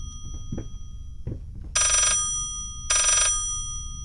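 A telephone ringing in reverse in the horror video game Layers of Fear gives two loud, bright electronic ring bursts about a second apart over a low, murky ambient rumble.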